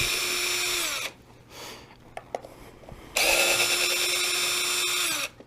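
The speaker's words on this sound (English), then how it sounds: "Take the 3 screws out that holds the servo in place" A power driver backs out servo screws on a Traxxas X-Maxx RC truck, two close whirring bursts of about a second and two seconds with small clicks and handling sounds between them.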